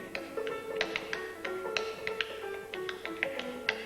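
Clog dancers tapping out the beat at a barn dance, rapid crisp taps over faint background music, fairly quiet and somewhat distant.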